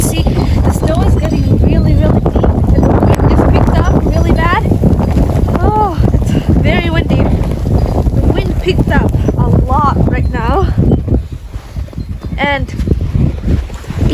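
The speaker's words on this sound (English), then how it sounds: "the snow is getting really deep, and the wind is picked up really bad." Strong wind roars and buffets the microphone in a deep-snow storm, a loud continuous rumbling gust noise that persists throughout while a person talks over it.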